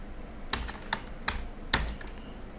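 Scattered keystrokes on a computer keyboard, including a Ctrl-Shift-Enter shortcut, sound as a handful of sharp, close clicks spaced irregularly over a faint steady background hiss, with the loudest click near the end.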